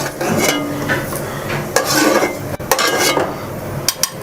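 A spoon clatters and scrapes against a metal pan while fried cashews and curry leaves are scooped out of hot oil for cauliflower biryani, with sharp metallic knocks over a faint sizzle and no voices.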